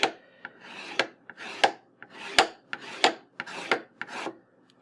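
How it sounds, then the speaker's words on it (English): A palette knife scrapes dried paint off a floral painting in a run of short, rasping strokes, each one close and crisp, with no voice over them. "I'm just going to use it to sort of scrape away some of that yellow I added."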